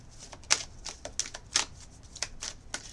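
Quiet, close riffling bursts of cards being shuffled, several quick flutters in irregular succession.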